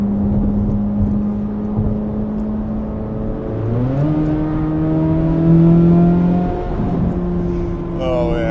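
A Corvette Z06 engine drones steadily from inside the moving car, its pitch climbing and then stepping down through gear changes before rising again.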